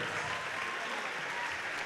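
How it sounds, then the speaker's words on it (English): Steady crowd applause fills a high school gym for the Surrey Mustangs seniors on boys basketball senior night, a dense unbroken wash of clapping throughout. "Let's have one more round of applause for our 2026 Surrey Mustangs senior."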